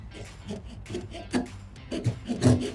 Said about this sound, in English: Now I'm going to saw off the sprue here